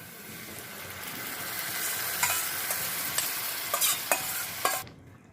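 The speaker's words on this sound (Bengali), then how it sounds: "এবার আমি যে দইয়ের ঘোলটা বানিয়ে রেখেছিলাম এটা ঢেলে দেব" Buttermilk made from curd poured into a pan of frying onion and spices for Rajasthani gatte ki sabzi, a steady sizzle with scattered sharp crackles and stirring clicks, the frying cutting off abruptly near the end.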